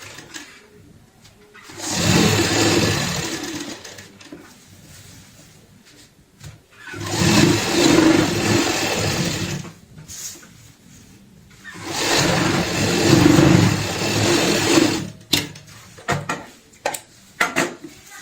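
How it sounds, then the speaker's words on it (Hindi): A sewing machine stitches lines across a bed sheet, running in three steady mechanical bursts of a few seconds each, separated by quieter pauses. "तो अब मैं मशीन के ऊपर चलता हूँ और सिखाता हूँ इसमें ऊपर सिलाई कैसे लगाई जाती है"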